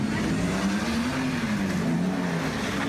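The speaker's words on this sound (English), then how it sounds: "And one by one, cars, trucks, and SUVs took turns burning rubber in the parking lot." Street racing car spinning its tires and burning rubber in a parking lot, a loud continuous roaring engine with a sustained droning tone, close and unbroken for the whole stretch.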